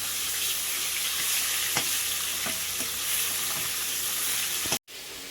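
Fish frying in a pan, a dense steady sizzle close by with scattered crackles and a clink or two, running continuously before cutting out abruptly near the end.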